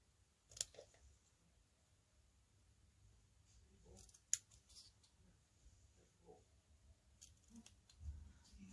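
Scissors snipping paper strips for a scrapbooking double-page layout, a few quiet, scattered sharp cuts and clicks with gaps between them, close but faint.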